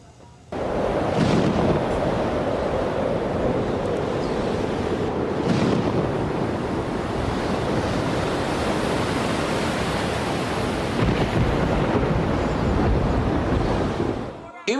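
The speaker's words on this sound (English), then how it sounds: "Images of a river gone wild." The flooded Ganga in West Bengal's Dakshin Malda rushes in a loud, steady roar of churning water, with gusty wind buffeting the microphone and a couple of heavier surges.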